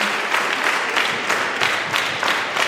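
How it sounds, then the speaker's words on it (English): An audience at a school debate competition claps to welcome guests walking to their seats, a dense, steady applause that holds evenly throughout without anyone speaking. "May you clap hands for them while you're moving forward to their seats"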